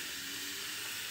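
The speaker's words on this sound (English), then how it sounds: "listen to that. Listen to that sizzle." Chuck steak sizzles over charcoal on a homemade stove, giving a steady, close, continuous crackling hiss with no talking.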